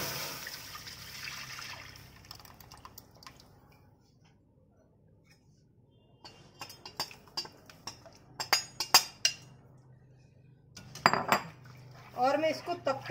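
Besan mixture stirred in a hot, dry kadhai with no oil, a quiet start followed by irregular metal spoon scrapes and knocks against the pan, close and growing busier toward the end.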